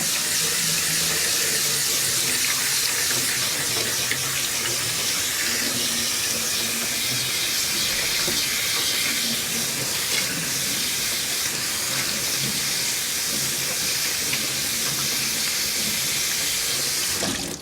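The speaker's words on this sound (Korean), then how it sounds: "그러면 자 이렇게 해서 찬물에 한번 헹구도록 하죠" Cold tap water runs steadily for a long stretch over boiled ramen noodles being rinsed in a sink, a loud, continuous hiss and splash without pause.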